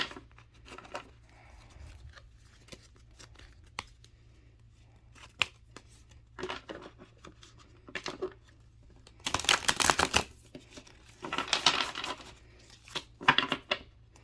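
A tarot card deck being shuffled and cut: soft, sparse card handling gives way to louder riffling bursts in short clusters, close and intimate, with no voice heard.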